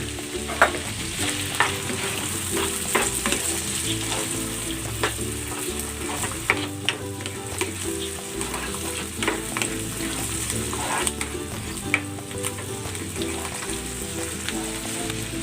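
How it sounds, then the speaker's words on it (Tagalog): Canned shiitake mushrooms sauté in a pan alongside onions for pork steak in mushroom sauce, giving a steady, close sizzle with repeated scraping and clinking stir strokes throughout, no voices. "At igigisa ko na rin itong canned shiitake mushroom."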